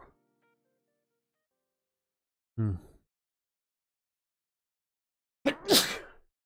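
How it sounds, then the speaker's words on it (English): A single sharp sneeze triggered by powdery spicy snacks bursts out after a short quiet stretch, preceded by a brief breathy intake; close and loud against near silence. "these snacks are making me sneeze"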